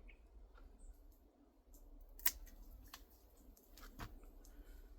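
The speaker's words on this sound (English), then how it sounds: "I cut off a piece of the plant." Cutting a piece off a Panadol plant, heard as a sharp single snip in the middle followed by a fainter click a bit later over quiet background.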